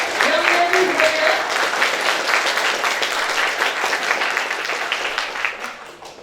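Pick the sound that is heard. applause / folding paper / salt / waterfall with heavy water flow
applause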